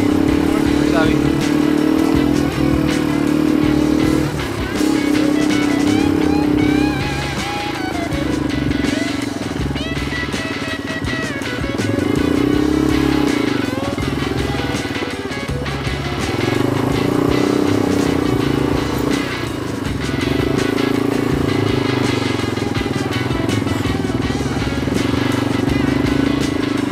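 A motorcycle engine drones loudly and close by, its pitch rising and falling in uneven surges as it works over rough ground, with wind noise throughout.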